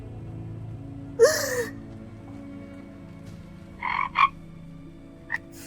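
A few short croaking calls spaced apart over quiet background, a bright burst early on and a pair of croaks later, then one brief final call.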